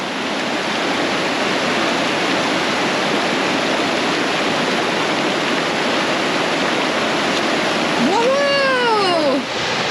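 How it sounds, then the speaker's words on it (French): A waterfall with a strong, heavy flow in Ushguli, Georgia, roars as a steady, loud broadband rush throughout, with a brief high whistling or meowing sound near the end. "On dirait que Aubin a trouvé la cascade"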